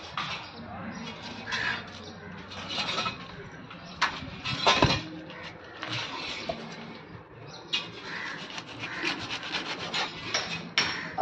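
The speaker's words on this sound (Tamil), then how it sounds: "இந்த மீனை நாங்கள் எப்படி பீஸ் போட்டு கட் பண்ணி கொடுக்குறோம் அப்படிங்கிறத நீங்கள் கொஞ்சம் தெளிவாக பாருங்கள்" Rough rasping and rubbing as dried seer fish (vanjaram) is cut into pieces, repeated scraping strokes with a few knocks close by, with birds cooing and faint voices in the background.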